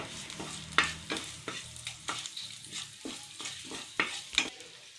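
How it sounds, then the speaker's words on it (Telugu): Dried red chillies and curry leaves frying in hot oil, a soft sizzle broken by repeated sharp crackles and spoon scrapes every second or so, fairly quiet with no speech. "ఇప్పుడు వీటిని వేయించుకోవాలి"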